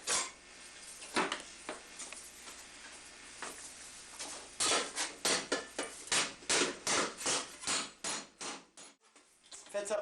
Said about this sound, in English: I'm going to take it over to the ball stake and hammer this a little bit round so that it all fits in